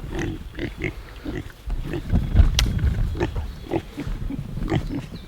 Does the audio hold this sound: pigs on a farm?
yes